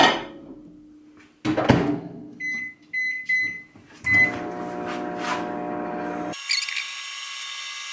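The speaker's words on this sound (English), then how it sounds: "she says for about a minute to microwave it" A microwave oven: a few clunks and short electronic beeps, then a steady humming drone as it runs.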